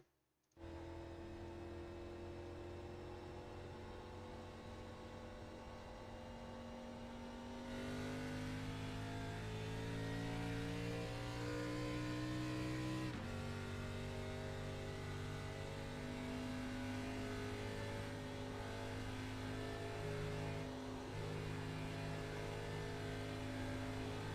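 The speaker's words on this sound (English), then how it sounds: "let's go ahead and go on board with Jacob Carter as he makes his opening lap here" Race car engine in an ARCA Series racing video game at Atlanta, heard on board during an opening lap, droning steadily and loudly with rising pitch as it accelerates and shifts, running continuously with no talk.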